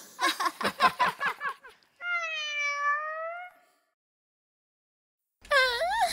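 A cartoon cat in a Malay children's nursery-rhyme animation gives a clear, drawn-out meow, followed by a second meow after a brief silence, with a quick stretch of rhythmic singing or chatter beforehand.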